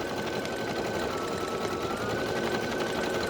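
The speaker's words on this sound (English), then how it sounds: "that's going to be a finishing bean stitch just around the edge" An embroidery machine sewing a finishing bean stitch around the edge of a felt in-the-hoop snap-it hand sanitizer holder with a 75/11 ballpoint needle runs in a steady, loud, continuous mechanical whir that never lets up.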